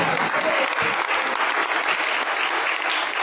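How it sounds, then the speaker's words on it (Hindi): A church congregation claps together in a dense, steady burst of applause that runs loud and unbroken from start to finish. "ताली प्रभु को महिमा करो।"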